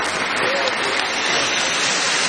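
Steady applause from an audience at a Save the Children centenary celebration in Nigeria, dense and continuous throughout, with a faint murmur of voices mixed in.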